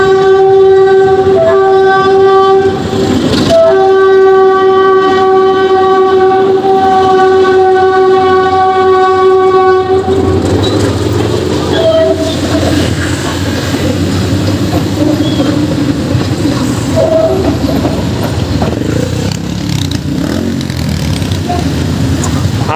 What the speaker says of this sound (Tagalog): May paparaan na tren ng PNR.